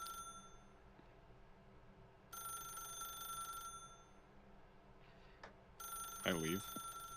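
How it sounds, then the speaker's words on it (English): A telephone rings inside a video game in two separate bursts of bright, steady ringing. Quieter game ambience hums between the bursts. "Oh, Stanley, did you just unplug the phone?"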